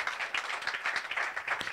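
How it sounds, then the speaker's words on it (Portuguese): Audience at a live comedy show gives a short burst of steady applause, a brisk rhythmic patter of many hands clapping. "uma salva de palmas para ele, por favor"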